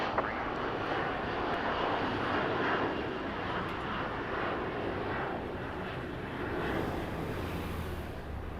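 Jet engines of an Embraer 175 departing Los Angeles International Airport on runway 25 right, a steady broadband roar heard from a distance, gently rising and falling with faint wind.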